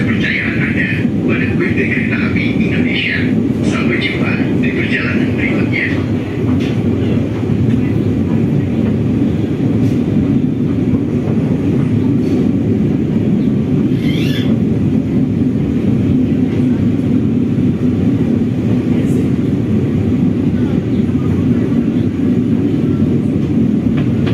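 A Ranggajati passenger train arrives at Ciledug station in Indonesia, a steady loud rumble of wheels and carriages rolling along the platform, with faint higher squeals and clanks over the continuous low roar.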